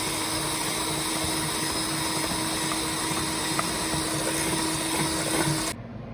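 An electric mixer creams butter and sugar for cupcakes, a steady whirring motor hum with a high whine that cuts off abruptly near the end, no talk.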